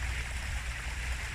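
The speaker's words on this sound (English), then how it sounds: "You can probably hear a little babbling brook behind me." A small babbling brook flowing in a Japanese garden, a steady, even wash of running water heard alone at moderate distance.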